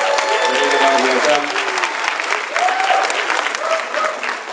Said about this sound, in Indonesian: Tepuk tangan untuk Pak Sam Shirley